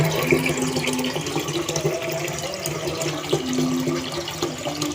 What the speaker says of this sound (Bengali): পরিমাণ মতো পানি দিয়ে দিচ্ছি